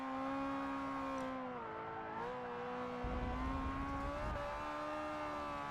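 Ferrari F355 V8 engine heard steadily under load, a continuous harmonic drone whose pitch dips and climbs through gear changes, fairly distant and subdued with no talking.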